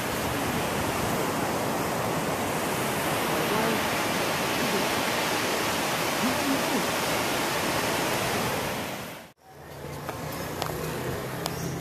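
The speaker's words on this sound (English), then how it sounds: "It's waves" Ocean waves washing onto a beach in Cuba make a loud, steady broadband roar that continues without a break, then cuts out abruptly and returns more quietly.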